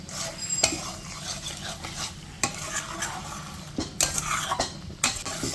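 Potatoes and spices sautéed in a pan over lowered heat, a spoon scraping and clinking against the metal in steady strokes with a soft sizzle underneath, close and moderately loud.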